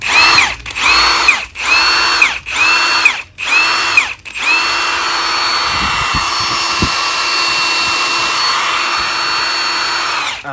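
A Milwaukee M18 cordless impact wrench, a loud close whine fired in several short bursts, then held in one long continuous run.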